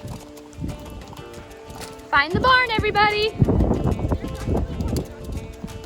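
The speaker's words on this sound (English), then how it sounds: "Our horses bringing themselves in from a trail ride." Horses coming in from a trail ride, their hooves clopping on the ground near and far while a horse whinnies loudly once and people talk over the scene.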